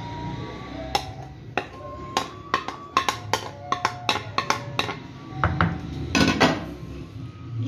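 A spoon mixes yogurt raita with tomato, onion and mint chutney in a bowl, making irregular clinks and taps against the dish, some in quick bursts, close and clear.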